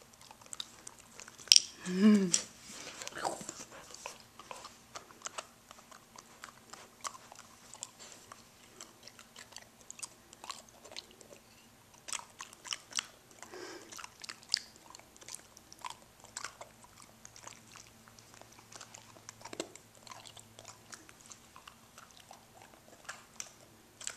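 A dog crunching and chewing an ice cube, with scattered irregular crackles and bites, fairly close but soft, spread over a long stretch with quiet gaps and faint room noise.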